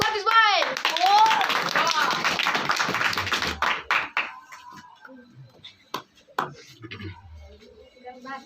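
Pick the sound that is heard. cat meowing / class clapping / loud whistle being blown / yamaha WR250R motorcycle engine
class clapping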